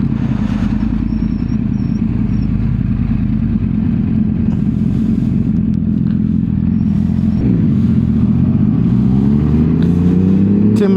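A motorcycle engine runs loud and close in a steady low drone, then its pitch climbs as the rider throttles up and pulls away.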